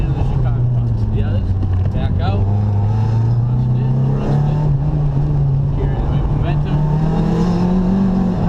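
Mitsubishi Evo driving a bumpy track through a slalom, its engine a steady loud drone that rises and falls in pitch with throttle, with a little wheel spin and a voice talking over it.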